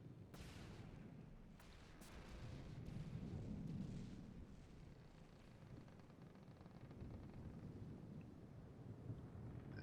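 Minecraft torpedoes strike the SS Andrea Doria as she sinks: a few sharp explosive cracks in the first seconds, then a dense, continuous low roar and rumble that swells around the middle and carries on steadily, with no voices.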